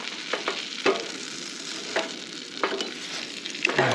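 A grilled ham, tomato and cheese sandwich fries in butter in a pan with a soft continuous sizzle, broken by a few light scraping and pressing clicks from a spatula.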